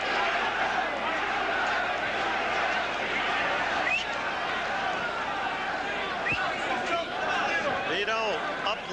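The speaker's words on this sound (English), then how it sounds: "Chant of the crowd for Vito." A boxing arena crowd chants for Vito Antuofermo after his fight with Marvin Hagler, a steady roar of many voices filling the hall without a break.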